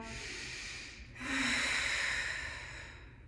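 Deep inhale during a gentle yoga stretch, a single drawn-out breath swelling louder after a brief pause and holding steady, close and breathy with no talk over it.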